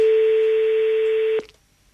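A single long telephone tone sounds loud and steady for over a second, then cuts off abruptly with a click as a call to a friend goes through.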